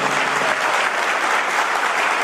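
A large crowd at a rally on SC sub-classification claps loudly and continuously, a dense unbroken roar of applause from many hands with no pauses.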